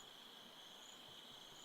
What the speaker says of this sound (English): As well as that, we've got some crickets.